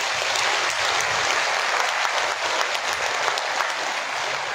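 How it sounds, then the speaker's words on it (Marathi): An audience at an Indian Red Cross relief event for heavy-rain victims in Barshi taluka claps in a dense, steady burst of applause that lasts throughout, with no voices standing out. "जोरदार टाळा सगळ्यांनी"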